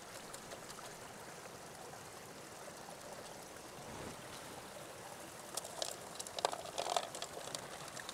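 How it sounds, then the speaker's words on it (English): Flowing water at a sluice box set up for gold recovery, a steady close stream rushing throughout, with roots being rinsed off in the current adding brief splashes near the end. "We want to wash them off best we can."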